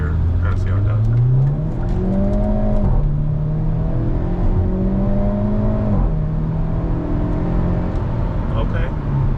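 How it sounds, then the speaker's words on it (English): A Hyundai Elantra N accelerates hard through several gears, its engine note climbing and dropping at each shift with brief exhaust burbles, loud and close from inside the car. "Got the little burbles every time it shifts"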